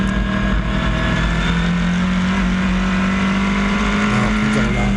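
Race car engine at full throttle on the track during a New England race, a loud, sustained, steady drone with a strong tonal whine that holds nearly level across the whole stretch, close and continuous.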